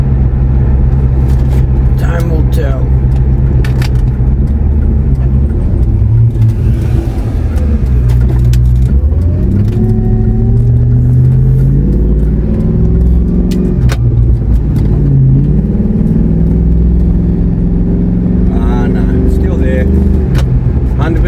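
Car out on the road after a harmonic balancer replacement for an engine vibration fault, a loud steady engine and road drone with shifting rev tones throughout, a few light clicks and rattles, no talk.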